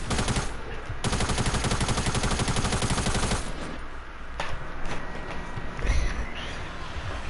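Rapid automatic gunfire in Fortnite, a loud sustained burst of closely spaced shots for several seconds, then quieter scattered game sounds.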